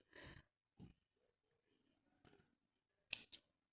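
Scissors snip through crochet yarn, a couple of quiet cloth rustles followed by two sharp close snips near the end, in an otherwise silent room.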